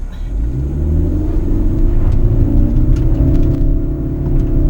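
A Proton Persona VVT pulling hard on a cone course, its engine rumbling loud and close with the pitch climbing as it accelerates.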